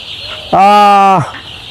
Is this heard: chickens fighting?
yes